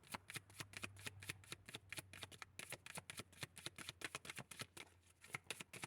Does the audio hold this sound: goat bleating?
no